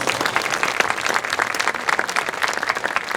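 Audience at a marching band premiere applauding band members, steady dense clapping close and even for a few seconds with no talk over it.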